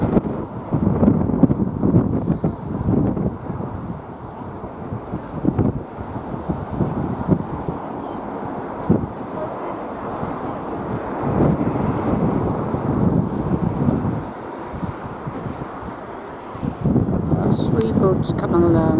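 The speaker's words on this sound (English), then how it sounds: "And it's windy here." Strong coastal wind buffeting the microphone by the sea near Portrush Harbour, loud gusty rumble rising and falling throughout, with a voice speaking at times underneath.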